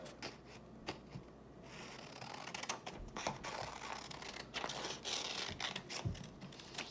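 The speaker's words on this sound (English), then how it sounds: "take your scissors and you are going to cut off the excess edge" Crisp snipping and rustling of paper as scissors trim the excess edge of a paper cootie catcher, a run of short sharp cuts close by with soft handling noises between them.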